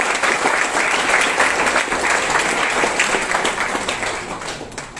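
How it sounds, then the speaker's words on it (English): A big round of applause at a student council investiture ceremony, loud, dense clapping from an assembled crowd, steady and then easing slightly toward the end. "we should give him a big round of applause"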